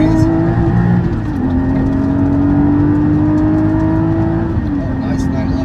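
A Porsche 718 GT4 with a Cargraphic X-pipe racing exhaust in loud mode drones steadily from inside the cabin, engine note holding and shifting slightly as it pulls, with a voice talking over it.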